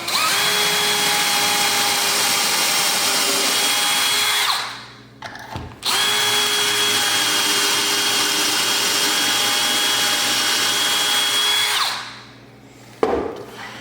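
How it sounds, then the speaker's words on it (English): A power drill whines steadily through wood in two long bursts, each several seconds, drilling holes for cabinet handles with a Kreg jig, with a brief pause and clatter between them, close and loud. "We're gonna go ahead and drill these out."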